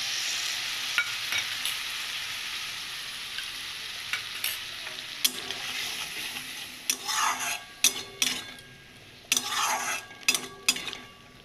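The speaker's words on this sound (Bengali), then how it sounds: "এটাকে দিয়ে এখন আমরা ভালো করে তেল ওঠা অবধি কষিয়ে নেব।" Spices with turmeric, cumin and coriander frying in oil in a pan, a steady hiss at first, then a run of metal spoon scrapes and clinks against the pan as the mixture is stirred, close and fairly loud.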